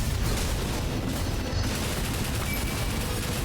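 Dense, continuous machine gun fire in the action video game Ender Magnolia, a steady rumbling roar of rapid shots with no breaks, fairly quiet and unaccompanied by voices.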